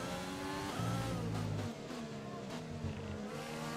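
Racing car engines in the F1 2020 video game at the Russian circuit, including a Mercedes power unit, whine steadily at high revs, shifting pitch through gear changes, loud and close throughout with no talking.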